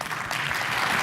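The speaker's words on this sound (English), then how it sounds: "Big round of applause for Dr. Rizzo." Audience applause for Dr. John-Ross Rizzo at a PhyzTalks presentation, a dense steady wash of many hands clapping that holds at an even loudness for the full second.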